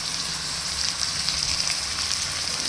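Stuffed eggplants fry in a pan of hot oil tempering with a steady, even sizzle and crackle that holds close and moderately loud throughout, with no voices.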